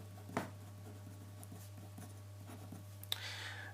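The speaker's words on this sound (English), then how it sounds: "Write up SOHCAHTOA." Handwriting the trigonometry mnemonic SOHCAHTOA: quiet pen or marker strokes scratching softly on a surface, with a couple of sharper taps, over a steady low hum and no talking.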